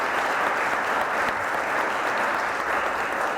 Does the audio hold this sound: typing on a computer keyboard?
no